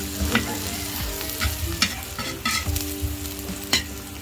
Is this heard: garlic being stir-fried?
yes